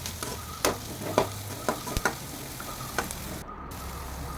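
Capsicum frying in a pan for paneer chilli makes a steady sizzle under sharp clicks and scrapes of stirring, close and moderately loud with no talk.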